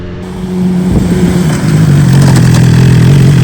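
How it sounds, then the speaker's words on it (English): Motorcycle riding in second gear at about 20 miles per hour and coming to a stop, its steady mid-pitched engine drone loud and close, dipping briefly before settling into an even hum. "first one is gonna be second gear, about 20 miles per hour, come to a dead stop, and then U-turn from a stop"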